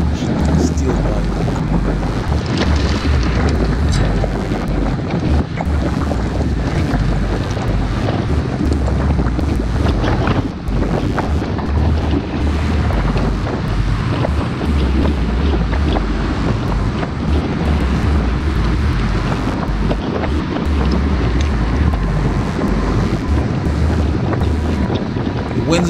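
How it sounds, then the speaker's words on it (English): Steady wind buffets the microphone during an outdoor group bike ride near Lake Conroe. The low roar is loud and continuous and lasts throughout, with no clear talk above it. "Wind's beginning to pick up a little bit because we're near the lake."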